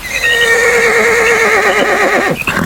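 A horse near a tar pit gives one loud, close whinny that wavers and trembles for about two seconds before ending abruptly.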